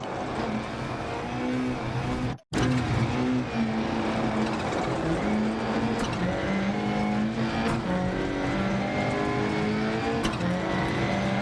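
Rally car engine in Dirt Rally 2.0, revving hard and climbing through the gears with rising and dropping pitch, a brief cut in power early on, loud and close with faint tyre noise.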